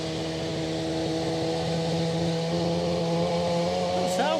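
Aircraft at Edinburgh airport with its port side engine blowing smoke: a steady, droning engine hum with sustained whining tones, fairly loud and close, rising slightly in pitch at the very end.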